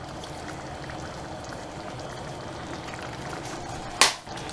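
Stuffed shells sauce frying on a stove, a steady close sizzle and crackle of splattering food, with a sharp clatter near the end and no talking.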